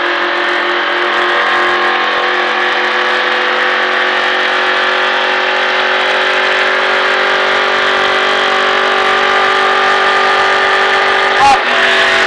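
A NASCAR stock car engine drones loud and steady from inside the car while accelerating out of a turn on a track, one brief knock near the end.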